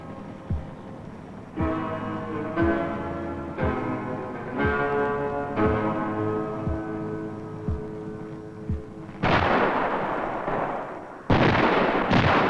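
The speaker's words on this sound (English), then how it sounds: "Live firings by Norwegian self-propelled howitzers." Norwegian self-propelled howitzers fire live rounds in cold winter conditions, a series of heavy booms at steady intervals, each followed by a ringing tail, with louder blasts near the end.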